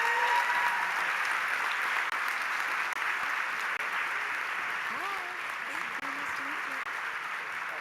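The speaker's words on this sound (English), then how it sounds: "So please give them a round of applause." Large audience applauding steadily for a university business school chapter at a team event, a dense even wash of clapping that holds loud for about eight seconds with faint voices underneath.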